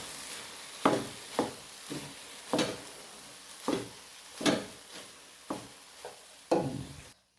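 Rice being stirred in a frying pan for a school lunch-box dish, a spoon scraping and tossing it in about ten separate strokes at a steady rhythm, each one a close, soft scrape over a faint sizzle.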